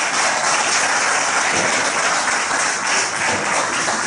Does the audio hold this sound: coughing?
no